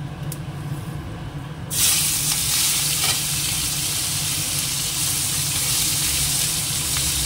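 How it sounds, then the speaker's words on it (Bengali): Dried red chilies, radhuni seeds and a few large prawns hit hot oil in a home kitchen, launching into a loud, steady sizzle that holds continuously after a quieter start. "তেলে দিয়ে দিলাম শুকনো লঙ্কা, দিয়ে দিলাম রাঁধুনি ফোড়নে, আর দিয়ে দেবো হচ্ছে চিংড়ি মাছ কয়েকটা।"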